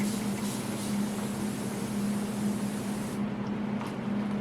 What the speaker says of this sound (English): I love these spray bottles too.